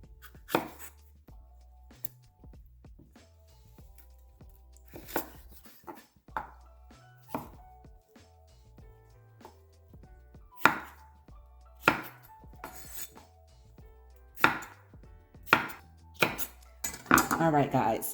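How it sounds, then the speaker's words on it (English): Knife chopping bell peppers into chunks for a roasted Mediterranean vegetable bake, with a series of sharp, close board knocks in irregular bursts, quickening toward the end, over a faint background hum. "we are going to slice these into nice sized chunks"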